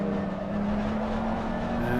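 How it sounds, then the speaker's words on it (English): Race car engines in a sim racing game, with the number 23 Rapid Esports BMW running close behind the number 46 McLaren. A steady, close engine drone holds throughout with a faintly rising pitch. "the number 23 Rapid Esports BMW getting up close and personal with number 46 McLaren"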